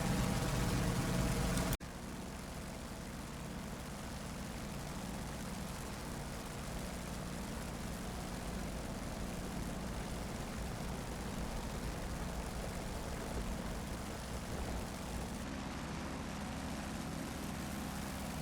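An F4U-1D Corsair's propeller engine in flight in the DCS World WW2 simulator over the Marianas: a loud roar that drops after about two seconds as power comes back, then settles into a steady, even drone with no talk.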